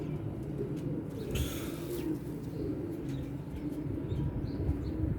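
Low, steady cooing from several freshly caught pigeons, held up close, rolling on continuously with a faint brief flutter, no talking.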